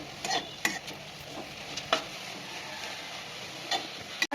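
Mustard flowers are dry-roasted in a pan with no oil, a light crackle under a few distinct spoon scrapes and taps against the pan, quiet and close.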